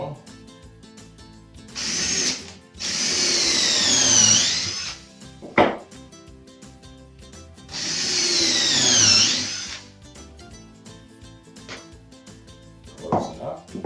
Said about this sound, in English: We're basically going to put two screws in on this leg